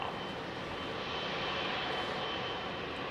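A Singapore Airlines Airbus A380's jet engines roar steadily at a London Heathrow stand as the throttles nudge forward to start taxiing, a loud, continuous broadband rumble with a whining edge and no talk.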